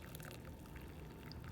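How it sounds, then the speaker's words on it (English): Homemade ginger tea is poured into a cup in a steady, faint, continuous trickle close by, with no talking. "I'm just gonna pour it up"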